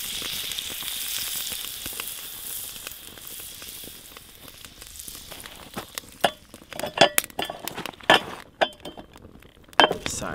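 Spruce grouse pieces fry in butter in a pan, a steady sizzle that carries on while sharp clinks and knocks of a utensil against the pan punctuate the second half.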